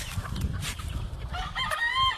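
Chickens and roosters on a Hawaii farm raising hens and chicks: nearby clucking runs under a rooster's crow that rises near the end, with no talk.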